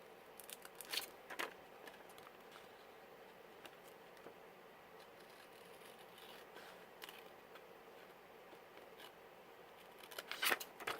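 Scissors snip through a paper room key folder being cut into a junk journal pocket, several short crisp cuts clustered near the start and again near the end, close and fairly quiet with a soft hiss between.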